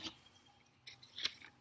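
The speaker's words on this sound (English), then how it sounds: "go ahead and cut towards the spine of your book" Scissors cut toward the spine of a paper book where its pages are stuck together, making a few sharp, scattered snips that are close and fairly quiet, with near-silence between them.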